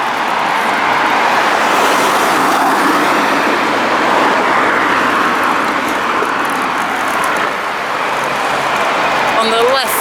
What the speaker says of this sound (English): Just watch out for these cars